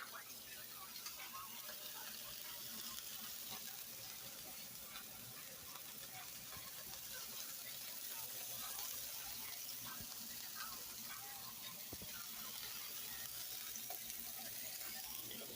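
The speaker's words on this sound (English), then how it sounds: "I hear them sizzling pretty loud right now" Hamburgers sizzle in a pan at home, a faint, steady hiss and crackle that continues without a break.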